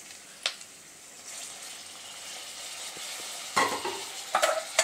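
Carrots and drumstick vegetables dropped one by one into a hot pan for sambar, giving a steady soft sizzle with a few sharp clatters and louder bursts as pieces land, close by with no talk.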